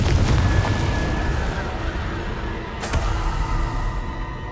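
Confringo fire spell blast from the game Hogwarts Legacy, a loud boomy explosion with a sharp crack partway through, heard over dense low rumbling game ambience.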